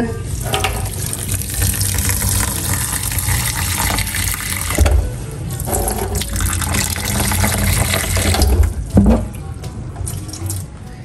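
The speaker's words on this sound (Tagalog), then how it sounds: "Lalagyan ko lang po muna ng onting tubig." Water runs steadily into a cooking pot being readied for shrimp sinigang, a continuous splashing pour close by that swells and dips slightly through its length.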